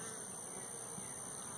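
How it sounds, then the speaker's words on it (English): Bees buzz steadily around an open hive box on a farm, a continuous close droning hum with no talking. "I got bees coming in and out of here"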